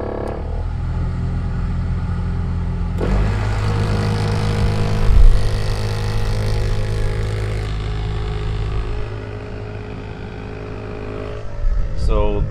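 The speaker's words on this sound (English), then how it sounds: "So the sound of this fan changes whenever you take a left or a right-hand turn." Blower motor fan in a Trailblazer or Envoy running loudly, a steady droning whir inside the cabin that swells suddenly after a few seconds and later eases back, with brief bumps over the constant hum.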